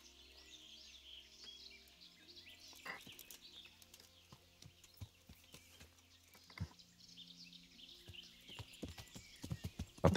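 Horse hooves clip-clopping at a steady riding gait in the video game Kingdom Come Deliverance, with rhythmic thuds growing louder toward the end over a bed of ambient birdsong and a brief whinny.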